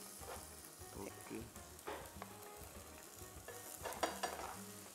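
Chopped celery, onion and sweet pepper sizzle in a frying pan as they are stirred, a steady crackling hiss with scraping and stirring scuffs layered throughout.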